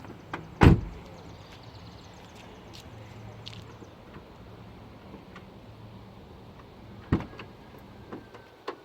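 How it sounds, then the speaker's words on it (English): A car door on an Infiniti G35 closes with one loud, sharp slam near the start, then a quieter thud follows later after a stretch of low background hum. "So I'm going to go ahead and close the door."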